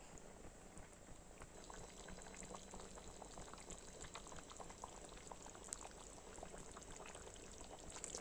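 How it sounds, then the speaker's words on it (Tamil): A thick chicken gravy bubbles and boils steadily in a pot, a quiet continuous plopping and gurgling heard close up with no talking. "அந்த கொதிக்க தண்ணி இருக்கு பார்த்தீங்களா இந்த சவுண்டுலேயே தெரியும்"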